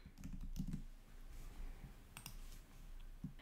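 Quiet, sparse keystrokes on a computer keyboard: a few soft clicks in small clusters while text is typed, with no voices.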